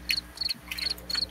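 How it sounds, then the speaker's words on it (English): Cricket chirps from a Discord soundpad, repeating in quick bright bursts about four times over a second or so, steady and fairly close, with no voices over them. "Wait, crickets."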